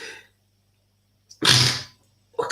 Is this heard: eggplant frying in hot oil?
no